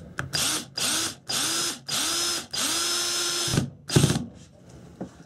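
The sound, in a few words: power drill driving screws into drywall anchors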